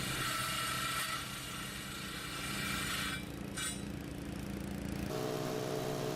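A motorized saw with a quarter-inch blade cuts dummy joints into a concrete slab, a steady grinding drone with a high whine that fades out briefly and then shifts into a lower, rougher tone near the end.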